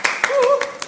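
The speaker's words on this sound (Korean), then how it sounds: "박수!" A handful of sharp claps ring out in a small Korean broadcast studio as a guest journalist is welcomed, with a speaking voice running alongside the clapping.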